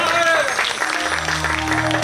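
Audience clapping for a singer at a Jaipur theatre anniversary celebration, a short burst of applause that fades as a sustained musical tone and voice begin underneath.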